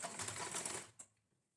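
A sewing machine stitches folded blouse lining fabric in a quick, rapid run of clattering stitches lasting under a second, then stops with a final tap and falls quiet; faint and close, with no talk.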